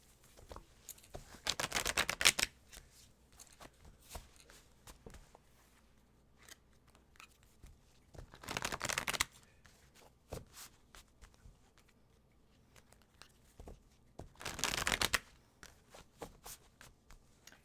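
Tarot cards are shuffled in three brisk riffling bursts spaced several seconds apart, with faint handling taps and rustles in between.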